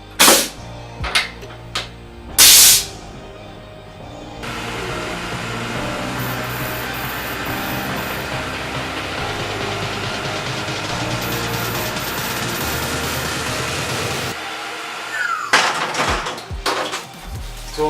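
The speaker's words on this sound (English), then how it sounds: "257 kind of metal drill." A Tormach 1100 CNC mill drills metal with a 257 drill, a sustained bright machining whine lasting about ten seconds, bracketed by sharp knocks and clanks before and after.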